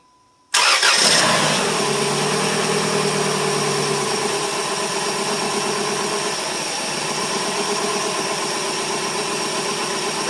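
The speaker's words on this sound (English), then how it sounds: "we're going to try and crank it over and we're going to see how it goes" A Dodge Stratus engine cranks briefly, then catches and starts. It settles into a steady, fairly loud idle that continues without talk.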